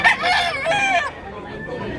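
A rooster crows at a chicken market in Tabunok, Cebu City, a loud close harmonic call that breaks off abruptly, leaving a quieter bed of background noise.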